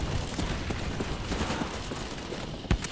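Galil rifle fire in a video game crackles as rapid bursts of shots, mid-loud and continuous, with a sharper, louder report near the end.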